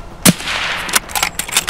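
A single sharp gunshot in the video game Escape from Tarkov, from a DVL-10M1 sniper rifle, loud and close, followed by a lingering rumbling tail and a few fainter cracks.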